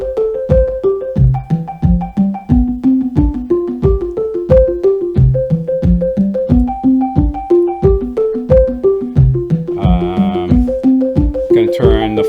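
A fast Rene II sequence driving a Buchla and Tiptop Audio 258t dual oscillator: plucked notes cycling through a repeating pattern, with a brief higher warbling tone near the end.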